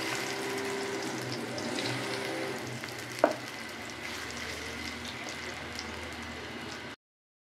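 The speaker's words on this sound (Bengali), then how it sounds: "প্যানে তেল গরম হয়ে গিয়েছে, কচুগুলো একটা একটা করে ছেড়ে দিব।" Taro pieces frying in hot oil in a pan, a continuous close sizzle with one sharp knock partway through, then the sound cuts off abruptly.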